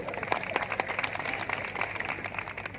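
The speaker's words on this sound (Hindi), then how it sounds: "एक बार पुलिस के सम्मान में जोरदार तालियां बजा।" An audience at a Hindi poetry recital claps together, honouring the police. The applause is a brief, fairly quiet burst of scattered claps with crowd murmur, heard from some distance throughout.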